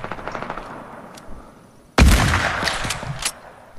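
Rapid automatic gunfire in a Fortnite match: faint scattered shots at first, then a sudden loud close burst that rattles on for over a second before easing off.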